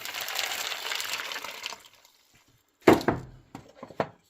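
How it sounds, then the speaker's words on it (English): Two cups of water poured into a pot of three-bean chili on a camp stove: a steady splashing pour for about two seconds, then silence, followed by a few sharp knocks and clunks of the cup against the pot. "So here's the 2 cups of water. We're going to pour it into there."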